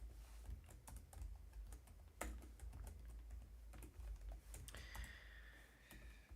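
Quiet, close keystrokes on a computer keyboard tap out irregularly, with scattered single clicks and a brief burst of faster typing near the end.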